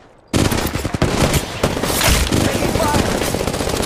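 Loud, dense automatic gunfire erupts after a brief quiet and rattles on continuously in a mobile Apex Legends match, a rapid fusillade dominating the scene with no pause.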